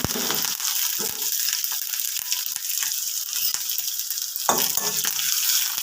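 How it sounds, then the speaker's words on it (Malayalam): Shallots and chili fry with mustard seeds in hot oil, a busy crackling sizzle with repeated stirring scrapes and clicks in the pan, close and unbroken by speech. "കടുക് വറുക്കാൻ ചെറിയ ഉള്ളി മുളക് കറി ഇട്ട് കൊടുക്കാം"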